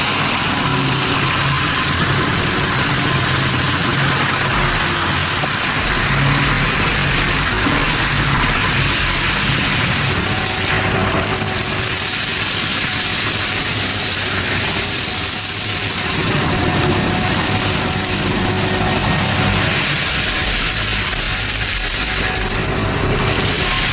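A large firewood cutting machine chews steadily through logs, a loud continuous mechanical roar with grinding wood noise that holds at constant volume throughout, no pauses.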